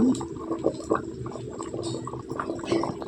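Fish curry (meen kuzhambu) simmering in a pot, a steady low bubbling and soft liquid gurgle lasting a few seconds with small pops, close by and moderately quiet, no voices.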